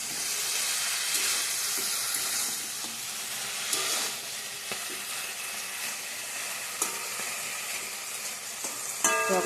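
Malabar spinach cooking in a pan for a mustard-paste chorchori, giving a steady close sizzle and frying hiss with occasional stirring clinks and scrapes.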